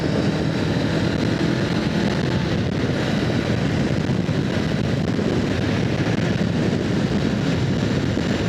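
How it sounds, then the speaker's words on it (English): Strong wind buffets the microphone on a Honda Rebel 500 motorcycle in a constant low rumbling roar, steady throughout with no voices. "It's windy."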